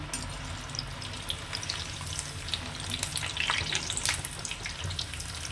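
Masala vadai, crisp paruppu lentil fritters, frying in hot oil on medium flame, with a steady close crackling sizzle and scattered sharper pops throughout.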